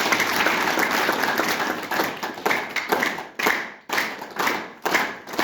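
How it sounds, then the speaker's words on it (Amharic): A church congregation applauds a woman receiving a gift, a steady wash of many hands clapping that breaks into uneven swells and dips toward the end. "አጨብጭቡላት።"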